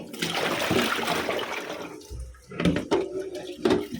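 Tap water runs in a home kitchen while water for soaking meat is changed, a gushing stream that cuts off midway, followed by a few splashes and clatters nearby.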